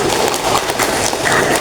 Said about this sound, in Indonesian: Kita beri tepuk tangan semuanya